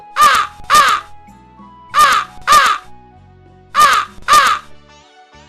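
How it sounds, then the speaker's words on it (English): A crow caws in three widely spaced pairs of loud, harsh calls, close and clear, with nothing else heard between them. "Crow."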